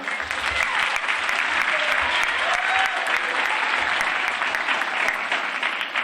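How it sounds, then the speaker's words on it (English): Audience at a school winter instrumental concert applauding, a steady dense wash of clapping that carries loudly throughout with no voices. "Let's have a big round of applause for her."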